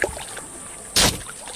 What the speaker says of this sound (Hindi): ये वाली आवाज़, ये ब्रांच कलेक्ट करने की आवाज़ है।